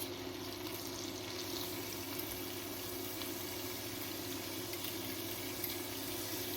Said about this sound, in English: I'm just going to gently fry it off in that butter